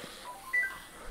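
A mobile phone gives a brief, faint electronic beep over a quiet background while a 7 Days To Die game is being played.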